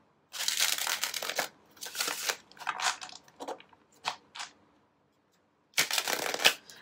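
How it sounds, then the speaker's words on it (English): A deck of tarot cards being shuffled by hand in several quick riffling bursts with short pauses between them, close and crisp in a quiet room with no talking. "I'm going to give this card a shuffle."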